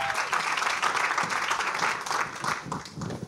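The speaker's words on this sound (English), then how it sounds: "Join me for another uproarious applause for Saxon." A crowd claps and applauds steadily throughout, a dense, sustained wash of many hands with no voices standing out.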